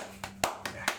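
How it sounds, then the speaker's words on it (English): A slow clap by a few people, four sharp hand claps spaced evenly and unhurriedly, close and fairly loud. "Slow clap."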